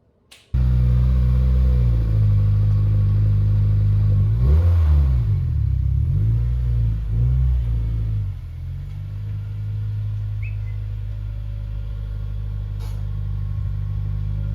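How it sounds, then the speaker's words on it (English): A Subaru WRX engine starts and idles, then revs with a rising and falling drone as the car is driven into a garage before settling to a steady low rumble, close and loud. "It's time to get the car into the garage."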